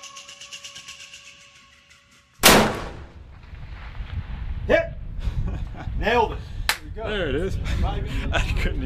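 A single sharp, loud gunshot cracks from a self-aiming rifle fired at long-range targets, followed by a fading rumble and then someone talking.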